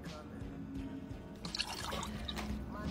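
Water splashing and dripping as it is poured or spilled, a short run of small wet drips and trickles, faint and close, with light talk underneath.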